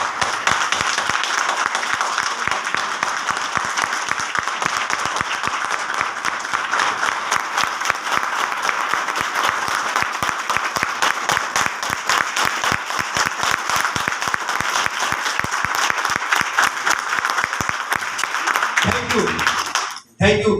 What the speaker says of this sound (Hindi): अपने लिए एक बार जबरदस्त वाली तालियां बजाइए।